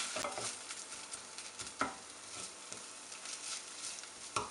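Ginger paste being mixed into a sizzling white fish curry in a pan: quiet, steady frying hiss with several soft scrapes and taps of the spoon stirring, no voices.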